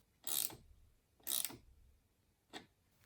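A ratchet wrench tightens a long nut on a lead battery terminal connector in three short, close mechanical clicking bursts separated by quiet pauses, with no talk.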